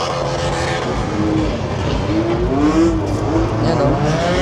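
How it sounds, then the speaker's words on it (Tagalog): Lowered JDM cars drifting up a mountain road, engines revving and rising in pitch, with tires squealing over a loud, continuous roar close by. "Mga nagdi-drift na dyan."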